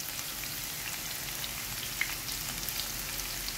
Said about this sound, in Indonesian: Setelah itu, kita akan goreng dengan minyak panas hingga berwarna kecoklatan.